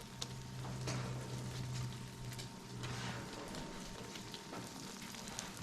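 Turkey sausage frying in a pan beside toasting Texas toast: a faint, steady crackling sizzle with soft scattered pops, continuous and close, with a low hum beneath.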